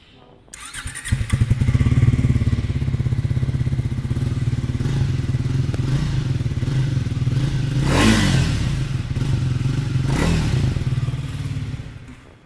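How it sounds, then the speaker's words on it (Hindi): A Triumph Speed 400 motorcycle's engine catches and settles into a steady, throaty idle close by, with two sharp throttle blips that rev up and fall back, plus a few light mechanical clatters. "कुछ इस तरह का एग्जॉस्ट नोट मिलता है विद दिस ट्रायम्फ स्पीड 400।"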